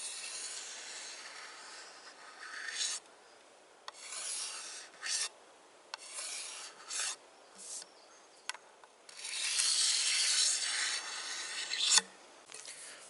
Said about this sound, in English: I am done with stripping the varnish off this axe handle